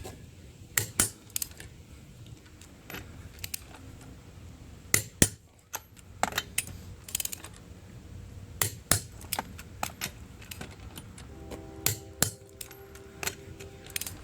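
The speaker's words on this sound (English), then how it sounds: "I've got my torque wrench on 100 foot-pounds. We're going to go ahead and start tightening these up." Metallic clicks and clanks from a torque wrench set to 100 foot-pounds tightening rear upper control arm bolts on a 2000-2015 Ford Focus, sharp repeated ratchet clicks in irregular bursts, fairly close, with no talking.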